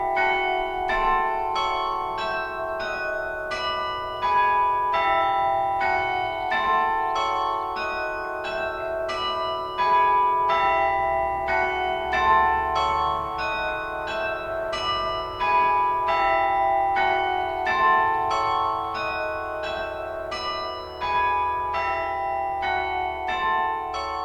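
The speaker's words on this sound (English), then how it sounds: "We're here in Alston, where we have our 10-bell carillon, which you're used to playing." Church carillon in Alston, a 10-bell instrument, played as a steady stream of overlapping bell strikes, bright and ringing with sustained tones, continuous and fairly loud across the whole stretch with no talking.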